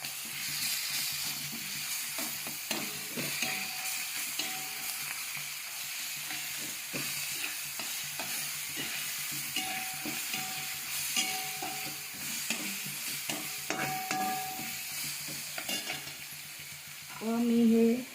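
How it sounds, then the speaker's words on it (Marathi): Ginger garlic paste frying in oil for a Kolhapuri-style soya chunk and potato curry: a continuous bright hiss with repeated stirring scrapes and light clinks of utensil on pan, swelling louder at the very end. "अद्रक लसूणची पेस्ट घालून घेतलेली आहे व चांगली त्याला लाल होईपर्यंत भाजून घेणार आहे तेलामध्ये।"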